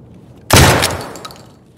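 A Benelli M3 shotgun fires a single loud, close blast in Escape From Tarkov, a sharp boom with a ringing tail and faint mechanical clatter afterward.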